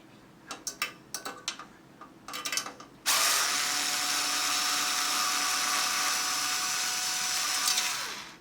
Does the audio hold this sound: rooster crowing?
no